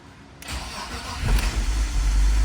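A BMW E46 323ci, bought cheaply at an impound auction, cranks briefly after a click, then fires and settles into a steady, loud idle close by.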